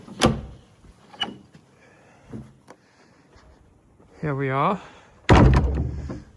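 An outside door is opened with a couple of thumps and handling knocks, then a drawn-out creak of the hinge and a loud closing thud, while a person speaks briefly nearby.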